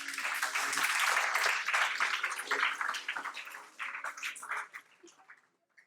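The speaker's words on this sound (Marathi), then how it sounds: "आपण त्यांना जोरदार टाळ्या देऊया" An indoor audience at a talk session applauds, a dense burst of many hands clapping that starts strong, gradually thins out and fades to silence near the end.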